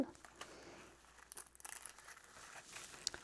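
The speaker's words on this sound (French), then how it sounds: "Maintenant, quand c'est bien collé avec le press and seal, je peux les retirer, retirer la pellicule" Press'n Seal plastic film is peeled off letters, giving soft crinkling and tearing rustles in short bursts, quiet and close.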